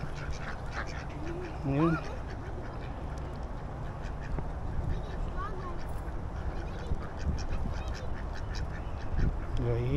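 A duck at a park pond in San Antonio, Texas, quacks once in a short raspy burst, with a faint call later, under outdoor ambience and a person talking.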